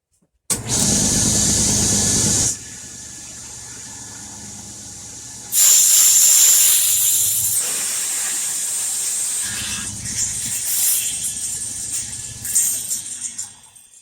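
Power tool cutting the edge of a wooden board flat for a mini crossbow, a loud close whine in bursts that rises, drops back and surges again across the cut.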